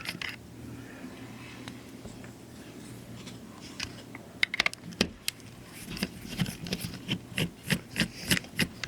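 Small screws being undone on a Nintendo DS Lite handheld console: faint scraping and rubbing at first, then a run of soft, close clicks and ticks.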